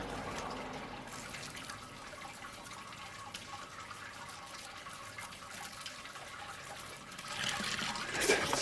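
Water runs steadily through homebrew equipment on a brew day as 12 litres pass through, a continuous close rushing flow that swells louder near the end, with no talk.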